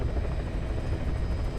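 Steady, loud helicopter rotor drone in Metal Gear Solid V: Ground Zeroes, a continuous low thudding rumble with a faint high whine, heard alone without talk.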